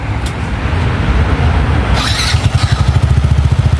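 An older Yamaha NMAX scooter engine cranks and catches, settling into a steady, fast, quiet putter close by.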